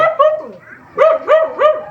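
An angry dog near a home kitchen barks sharply several times in quick succession, with a short yelp first and then a rapid run of loud, close barks.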